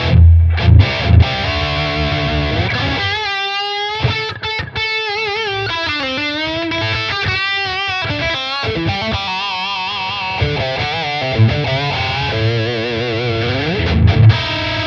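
An electric guitar played through Friedman-style amp tones on a Tonex, heavily distorted with sustained bent notes, fast melodic runs and chugging palm-muted chords, loud and upfront with no talk.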